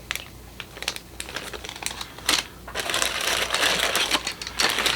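A plastic bag holding Monogram Black Widow hot rod model kit parts crinkles and crackles up close, starting with scattered handling rustles and then building into a louder, sustained crumpling.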